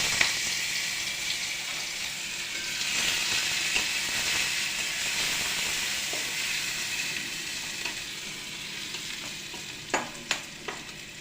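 Garlic paste frying in mustard oil in a wok, over a tempering of black cumin seeds, gives a steady, close sizzle throughout, with a few sharp utensil clinks and scrapes near the end.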